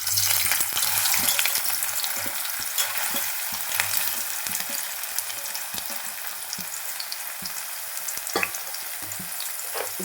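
Soya chunks (meal maker) fry in hot oil for fried rice, giving a steady, close sizzle dotted with scattered sharp crackles and pops throughout, with no voices.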